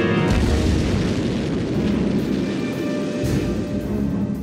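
A deep, rumbling blast roars continuously, like the drawn-out aftermath of a one-kilogram bomb explosion, loud and close with no voices.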